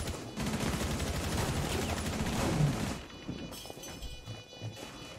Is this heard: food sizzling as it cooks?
no